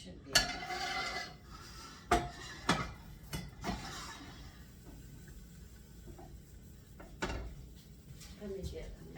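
A metal pan clanks and scrapes as it is handled and lifted off a home kitchen stove while gravy is being made. A few sharp knocks come close up, with fainter rattles between them, and a person talks quietly alongside.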